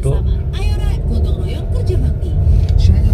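A Wuling Almaz climbs a steep hill in manual first gear, its engine giving a steady, loud low drone heard from inside the cabin while someone talks over it.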